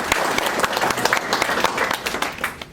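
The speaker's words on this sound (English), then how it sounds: "Can we get a round of applause" Audience applause at a seminar on trusts, wills and probate: steady, dense clapping from a sizable crowd filling the room, continuous throughout with slight swells and no break.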